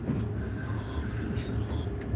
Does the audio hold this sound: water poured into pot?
no